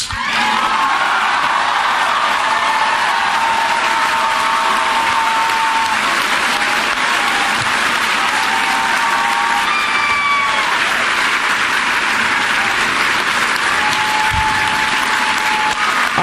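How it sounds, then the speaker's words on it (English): Sustained, loud applause from a large audience, with whistles and scattered whoops rising above the steady clapping throughout. "I told him to leave the applause in."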